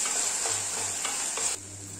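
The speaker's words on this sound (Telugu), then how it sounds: "దీని ఒకసారి కలుపుకుందామండి" Mixed vegetable pachhadi is stirred in hot oil, giving a soft continuous sizzle with several scraping strokes of the spoon close by.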